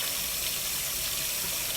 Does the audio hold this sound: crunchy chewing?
no